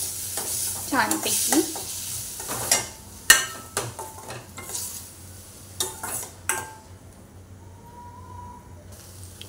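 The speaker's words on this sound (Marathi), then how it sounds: "आता सगळं परतून घेऊया फोडणी" A tempering of onion, asafoetida and curry leaves sizzles in a pan while a spoon scrapes and stirs in bursts. The sizzle fades to quiet near the end, with a brief spoken word.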